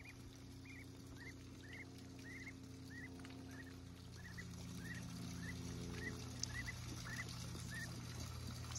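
Baby ducks at a pond give a faint, regular series of high peeping calls, about a dozen evenly spaced chirps over a low steady background hum.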